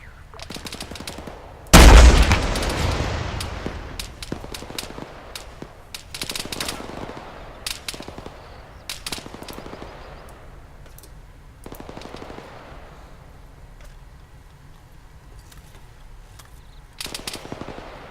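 Gunfire in the video game ArmA 3 Cold War Assault, a loud close burst of automatic fire followed by scattered single shots and short volleys at varying distances across the scene.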